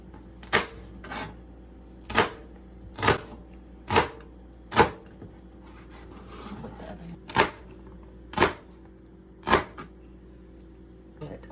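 Knife dicing vegetables for a vegetable soup on a cutting board, with about ten sharp, evenly spaced chops ringing out close and clear against a quiet kitchen background.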